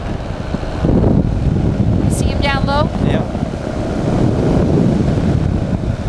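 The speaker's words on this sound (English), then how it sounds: "So the winds have definitely picked up a few notches." Strong wind buffets the microphone during a trike flight, a continuous loud roar with a brief whistling tone. Voices exchange a few short words over it.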